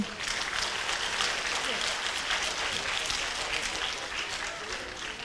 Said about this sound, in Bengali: আরো একবার জোরে করতালি।